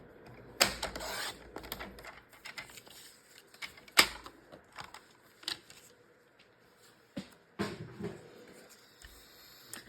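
A paper trimmer cuts a 4-inch strip of card stock for a handmade Christmas card, giving sharp irregular snaps and clicks with quieter rustling and scraping between them, close by and without talk.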